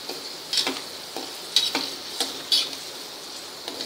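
Ingredients for a fasting-style chivda fry in hot oil over a low flame, giving a steady close sizzle broken by several sharp stir-and-scrape clinks in an irregular rhythm.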